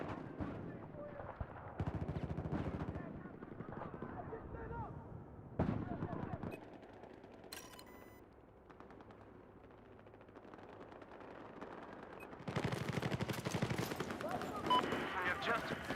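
Gunfire and explosions in the video game Battlefield 4, with bursts of shots and blasts through busy stretches, a quieter middle section, and a loud surge near the end. Voices are heard over the battle.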